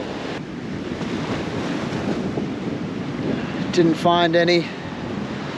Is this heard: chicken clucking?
no